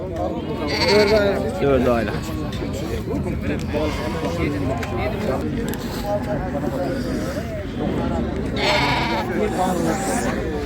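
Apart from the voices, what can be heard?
sheep bleating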